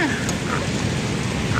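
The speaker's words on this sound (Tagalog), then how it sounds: "wala nang tigil po yung ulan" Heavy rain pours during Typhoon Tino by the Pasig River in Manila, a dense, steady hiss of falling water filling the short stretch at close range, with no clear voices over it.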